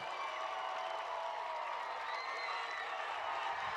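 A crowd at a South Kitsap Wolves high school football game at Ed Fisher Field gives a sustained, distant roar of cheering with no break.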